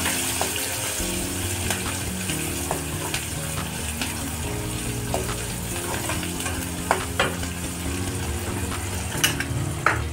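Water running and splashing as puffed rice is soaked for a Marathwada-style dish, steady and continuous, with frying sizzle from a nearby pan of peanuts, curry leaves and onion mixed in throughout.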